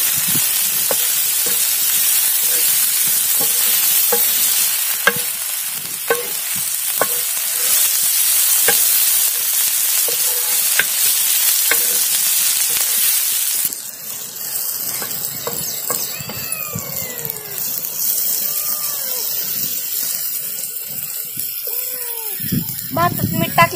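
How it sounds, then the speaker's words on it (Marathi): Rice pulao with turmeric frying on a tawa, loud sizzle with repeated spatula scrapes and taps on the pan, close up; the frying dies down partway through while voices talk over the rest. "थोडीशी हळद. दोन मिनिट असं हलवून घेऊ."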